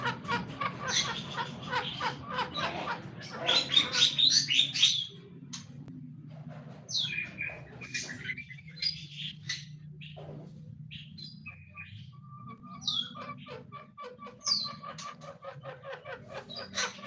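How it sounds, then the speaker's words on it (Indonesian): Junglefowl from the slopes of Mount Slamet call and cluck inside an aviary, with other bird chirps scattered through the clip. "Ayam hutan ini asli dari lereng Gunung Slamet"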